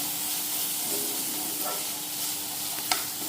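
Sambar ingredients dry-roasting in a pan, a continuous close hiss and sizzle with light stirring and one sharp clink near the end, no voices.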